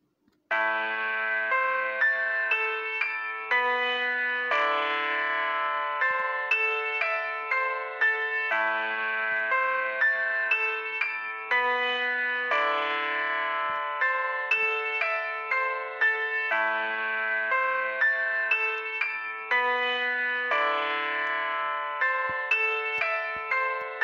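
A melody played back in FL Studio Mobile: steady, bright synth or bell-like notes in a repeating pattern with varied velocity, loud and continuous with no talking.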